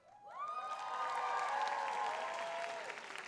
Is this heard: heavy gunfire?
no